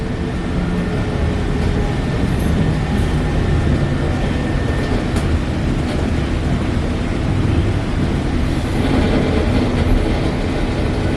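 Light rail train arriving at Redmond Technology station, heard from on board as a steady, loud rumble of wheels and motors lasting about eleven seconds, with faint squeaks and no clear voices.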